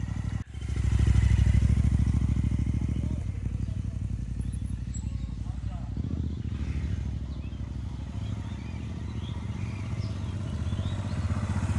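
Two motorbikes start up and pull away from a forest resort, a loud, steady engine rumble that swells early on, holds, then eases slightly as they move off, with voices faintly underneath.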